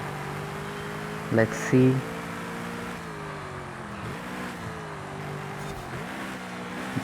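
A Noble M600 supercar in Forza Horizon 5 holds a steady engine drone that rises and falls as it accelerates through gears, with brief talk near the start.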